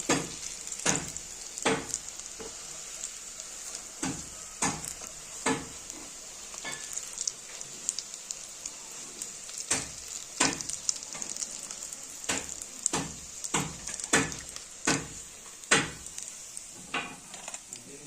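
Soybean vadas fry in hot oil with a steady crackling sizzle, broken by repeated sharp clinks and scrapes of a utensil against the pan as they are turned and lifted out.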